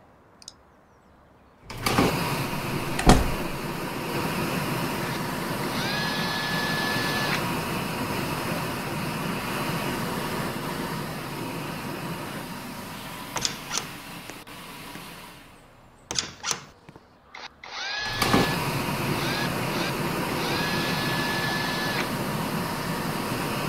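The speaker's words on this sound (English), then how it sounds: "Now to the hand dryer moment." An old office washroom hand dryer whirs steadily at close range, with a brief cutoff and a few clunks midway before the blower starts again and runs on.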